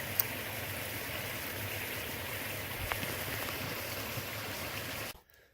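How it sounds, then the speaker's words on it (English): Deep stream water about four feet deep running along the Womble Trail, a steady broadband rushing wash heard close and constant before cutting off abruptly near the end. "every bit of 4 foot of water running in here"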